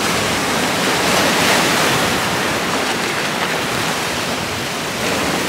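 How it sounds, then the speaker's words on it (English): Harsh ocean waves crashing at a natural pool in Aruba, a loud, dense roar of surf that stays steady throughout, with some wind buffeting. "the waves are too harsh, so you can't swim in here today"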